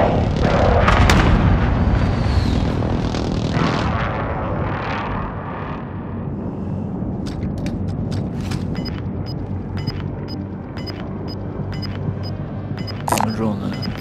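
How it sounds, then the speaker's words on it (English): Heavy booming blasts of an enemy precision airstrike in Call of Duty: Modern Warfare, loud rumbling explosions up front fading into scattered crackling gunfire and impacts, with voices talking over it. "Enemy precision airstrike"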